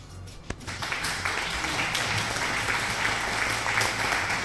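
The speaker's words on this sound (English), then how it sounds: "Applause" A crowd breaks into applause after a 2D Paintball Twitch Open 4v4 tournament match, starting with a sharp hit and then a dense, sustained wash of clapping at even loudness for several seconds.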